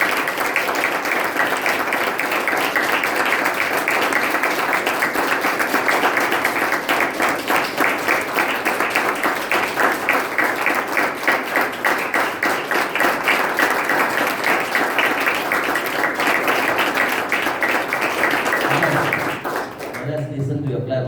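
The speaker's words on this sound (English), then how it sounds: "you just keep on clapping, don't stop until I say stop" A group of people in a classroom clapping continuously on cue, a dense, steady patter of many hands kept up at an even level for about twenty seconds before stopping abruptly, with a brief voice at the end.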